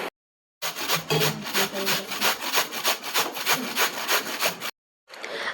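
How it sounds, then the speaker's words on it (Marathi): Pumpkin is rubbed against a hand grater in quick repeated rasping strokes, loud and close, running for about four seconds between brief silences. "आता किसणीवर ना हा असा सगळा भोपळा किसून घ्यायचा."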